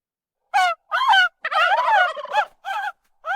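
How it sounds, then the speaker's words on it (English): Several loud turkeys gobble in quick bursts, close by on a farm, with short gaps between the rattling calls. "Hey, stop it, you turkeys."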